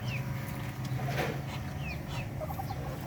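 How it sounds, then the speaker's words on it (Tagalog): A large rooster on a Philippine farm gives several soft, low clucks against a steady background hum, and faint chirps from other birds come and go nearby. "yan siya po yung pinakapaborito rito at siya po yung uh, pinakamalaki"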